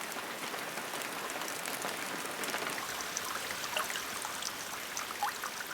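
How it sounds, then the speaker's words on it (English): Steady rain pours over the Amazon rainforest during the rainy season, a dense, continuous hiss of drops on foliage with scattered louder splashes, constant in level throughout with no voices. "Precipitation falls incessantly throughout what is now the Amazonian rain season"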